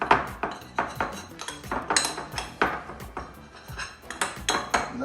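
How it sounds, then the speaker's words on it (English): A spoon clinks and scrapes around a small vessel, mixing paprika and spices for oven-baked turkey legs, in a brisk, repeated rhythm of close metallic taps. "So I'm gonna mix these in this little vessel here."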